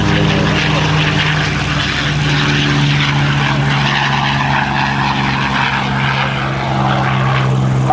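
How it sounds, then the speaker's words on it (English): A P-51 Mustang propeller fighter passes over an air show crowd, its piston engine a loud, steady droning roar with a clear low tone that swells slightly as it goes by. "There comes the P-51 Mustang."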